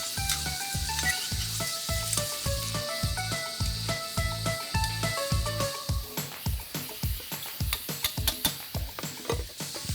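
Tomato sauce sizzles in a pan for pork and vegetable afritada, a steady frying hiss with a regular pulsing beat, later breaking into irregular crackles and pops.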